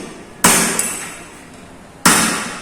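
Two hard hammer blows strike a metal scroll piece for a bouncing bed frame, each a loud sharp ringing crack with a short metallic decay, heard alone.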